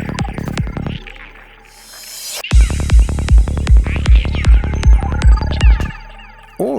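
A reversed crash cymbal in a forest-style night psytrance intro swells up from faint hiss and cuts off sharply, dropping straight into a loud, steady pounding kick and rolling bass pattern, with synth layers over the beat.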